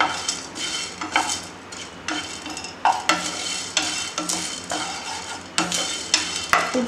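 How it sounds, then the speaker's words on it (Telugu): Whole spices for biryani masala powder being dry-roasted and stirred in a pan, with repeated scraping strokes of a spoon against metal over a soft, steady sizzle, close and moderately loud, no talking. "మనకు అన్నీ వేగిపోయాయి"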